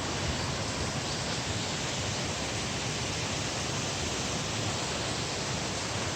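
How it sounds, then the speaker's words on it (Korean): Cheonjeyeon Falls' first waterfall on Jeju Island roars as a dense, unbroken rush of falling water, loud and steady for the whole stretch with no voices. "여기가 제1폭포가 되겠습니다."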